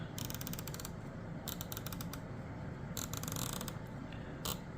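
Vortex Viper PST II rifle scope turret being turned clockwise toward its zero stop, producing clusters of crisp, close ratcheting clicks in quick runs separated by brief pauses, with no talking.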